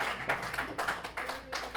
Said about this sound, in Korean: 우리 박수로 한번 해주시기 바랍니다.